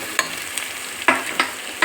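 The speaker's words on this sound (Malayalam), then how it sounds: "അപ്പോൾ ഇതൊന്ന് വറുത്തെടുക്കണം" Thinly sliced onions frying in ghee in a pan for Thalassery chicken dum biryani, a soft steady sizzle broken by a few sharp stirring scrapes.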